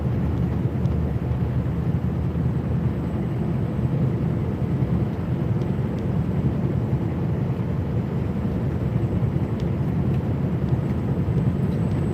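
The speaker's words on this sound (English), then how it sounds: "You can hear all the air rushing through the intercooler and into the engine" Continuous heavy engine roar of a snowplow truck with a broad airy rush of turbo air through the intercooler layered over a deep rumble, loud and steady from start to finish; no voices.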